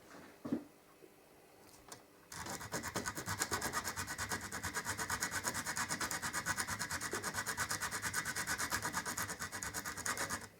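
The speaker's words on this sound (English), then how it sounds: "we tape some abrasive paper to this surface, rub it backwards and forwards, and the bottom of the bridge should take up that curve" The base of an electric mandolin bridge is sanded on abrasive paper taped to a curved surface. After a short quiet start, rapid, even back-and-forth rubbing strokes carry on steadily and close up until the end.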